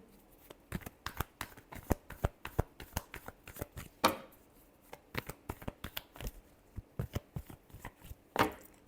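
A tarot deck is shuffled by hand in a fast run of crisp card riffles and snaps, close and quiet, with a couple of louder bridging flutters partway through and at the end.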